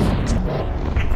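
A firework bursts in the video game Elf Bowling, a short loud booming crackle filling the whole moment.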